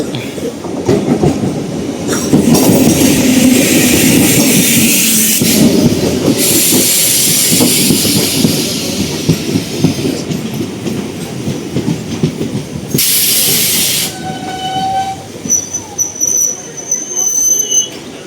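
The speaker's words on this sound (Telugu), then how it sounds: "మన ట్రైన్ అయితే స్టార్ట్ అయిపోయింది." Indian Railways Kanyakumari Express pulling out near Tirupati: a steady loud rumble of wheels and carriages gathering motion, with clickety-clack, some squealing and a few high whistle-like tones near the end, voices faintly mixed in.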